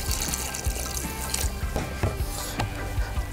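Water being poured into a pot to cover pork carnitas seasoned with piloncillo, salt and oregano for Guadalajara-style tortas ahogadas, heard as a continuous close splashing pour with small drips and clatter.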